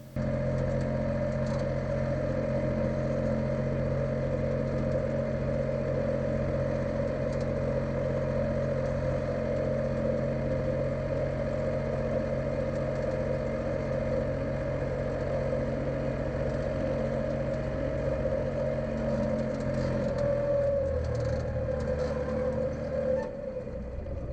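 A tractor engine drones steadily in fourth gear while pulling a single-bottom plough through spring soil, a constant low hum with faint clatter throughout, easing slightly near the end.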